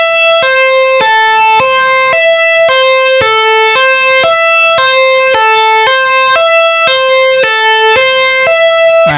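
Bright electric guitar notes are tapped in a fast repeating pattern, alternating between pitches like a wailing siren, steady and loud with no voices.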